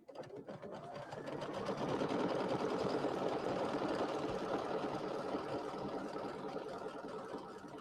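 An embroidery machine sews a tack down line on an Easter settee pillow, its needle running in a fast, even mechanical whir that rises after a soft start and holds steady, fairly quiet, with no talking.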